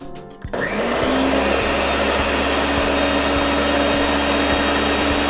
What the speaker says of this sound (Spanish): ahora sí, vamos a licuar esto.